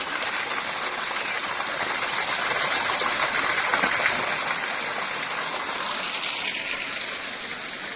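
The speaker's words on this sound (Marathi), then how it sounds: "हे टाकी ओव्हरफ्लो होऊन ते" Steady rushing water from an overflowing tank beside a village temple in Aambavali, Konkan, runs without a break, a full broad gush, close and fairly loud throughout.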